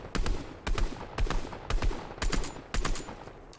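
Gunshots fire in a Fortnite-style video game, with about seven loud, sharp shots spaced roughly half a second apart and some fainter pops in between.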